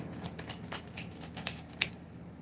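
Tarot cards are shuffled and drawn in a quick run of crisp, close flicks and snaps, about ten of them over two seconds, quiet and alone.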